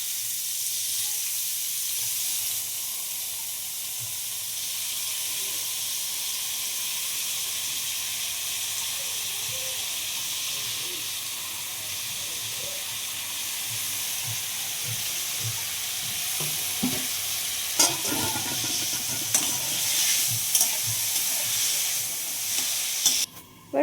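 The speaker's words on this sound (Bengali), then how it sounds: "এখন আমরা গাজরটা ভেজে নেব।" Carrots fry in a pan of oil for an egg pasta dish, giving a steady, close broadband sizzle throughout, with louder stirring scrapes and crackles building toward the end; no one talks.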